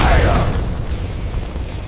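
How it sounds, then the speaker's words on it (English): An abandoned safari jeep engine backfires as the starter fights, one heavy low boom at the start that tails off into a rumbling, sputtering engine noise, loud and close. "Backfire!"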